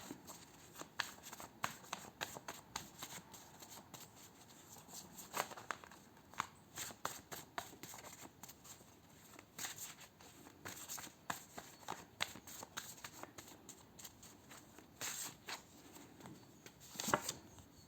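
Tarot cards for a health and lifestyle reading are shuffled at close range, giving bursts of rapid riffling and soft flapping that come and go over a steady low room hiss, with no talking.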